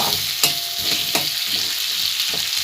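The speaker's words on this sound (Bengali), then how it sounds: "দিয়ে আলুগুলো ভালোভাবে ভেজে নেব" Potatoes with a little turmeric frying in oil and being stirred, a steady close sizzle punctuated by several sharp scraping strokes of the spoon against the pan, with no talking.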